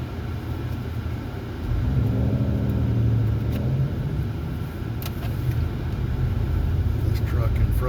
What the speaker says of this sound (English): Traffic's moving a little slow through Slidell today.